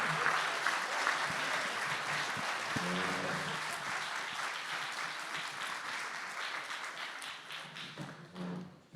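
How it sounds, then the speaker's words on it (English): Audience applause at a 2025 candidate forum in Nampa: a sustained crowd of clapping hands rolls on for several seconds, dense and steady, with a voice briefly audible partway through before the ovation tapers off. "Let's give them a hand."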